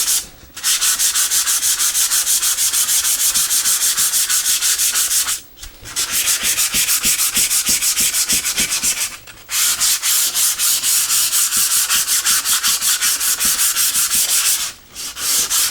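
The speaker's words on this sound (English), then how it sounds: "literally, you just sand" Sandpaper of 150 grit scrubs across the top of a board in steady, fast back-and-forth strokes, loud and close, with three brief pauses between bursts of rubbing.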